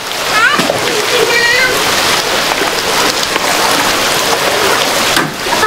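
Heavy rain pours outside a house, a dense, steady roar of splashing drops that runs throughout under people talking.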